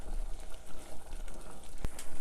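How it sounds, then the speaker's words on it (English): Thick sugar syrup for candied almonds bubbles steadily in a pan, a soft continuous fizzing simmer with one sharp pop near the end, heard alone and fairly quiet. "So a lot of the water is boiled out here, so now it is quite a bit thicker, more like a thick syrup."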